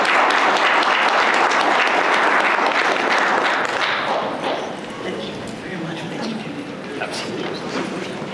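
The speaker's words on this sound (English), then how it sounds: "Please join me in applause for everyone." Audience applause for panelists at a CES talk swells loudly, then thins and fades to scattered clapping, with some voices underneath.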